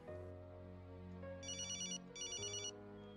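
A telephone ringtone plays in a movie scene: a sustained electronic tone under which two bright bursts of trilling ring sound in succession, clear and close, with no talking.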